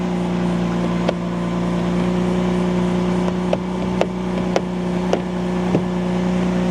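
A 2025 Ram RHO truck idles after a remote start, giving a steady low engine drone with a few faint clicks and taps over it. No one speaks.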